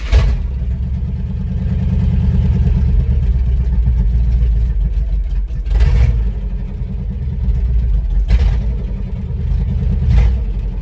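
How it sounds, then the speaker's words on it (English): Buick engine in a 1972 Chevrolet C10 truck running unevenly with a slight miss, a close, loud rumbling idle that swells into brief revs a few times. "It seems to be missing a little bit, and once it gets warmed up, it idles high"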